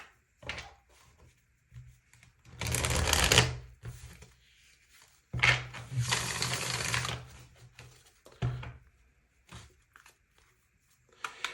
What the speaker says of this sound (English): These tarot cards do not want to shuffle today.